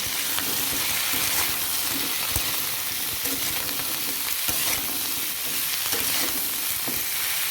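Drumstick and potato curry with salt is stirred in a frying pan, a steady broadband sizzle with scraping spatula strokes and clinks running continuously, close and fairly loud.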